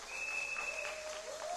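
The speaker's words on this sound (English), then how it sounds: "Can we have a big round of applause for everyone?" Audience applause in a women's plenary hall, continuous even clapping throughout, with faint sustained whistle-like tones above it.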